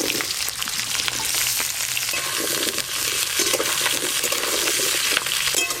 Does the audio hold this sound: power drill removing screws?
no